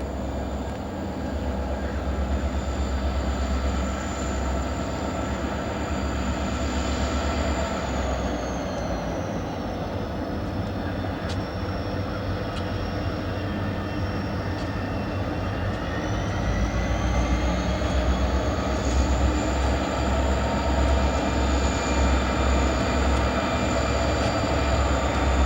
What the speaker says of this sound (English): A Spartan Cab SD60 leads this westbound into the yard, trailed by a pair of SD40-2s and an SP tunnel motor